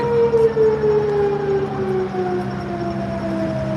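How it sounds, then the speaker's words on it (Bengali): A fire brigade vehicle's wailing siren sounds loud and sustained in a Lynbrook, New York neighborhood, its tone sliding slowly downward as it carries across the area. "সাইরেন বাজছে কোথাও কোনো কোনো দুর্ঘটনা হয়তো ঘটেছে"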